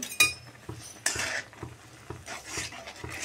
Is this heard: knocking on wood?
no